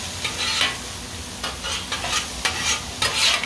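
Bacon fries in a pan with a close, steady sizzle, punctuated by a few short bursts of scraping and stirring.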